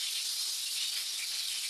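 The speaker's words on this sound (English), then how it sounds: "I'm going to start off by frying the onions till they are golden brown." Onions frying in oil in a casserole pan, a steady, even sizzling hiss that holds alone without a break throughout.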